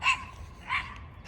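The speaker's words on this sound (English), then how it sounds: "small little dog right here." A small dog outdoors on a nature walk gives two sharp, high yappy barks spaced well apart, moderately close, over faint background noise.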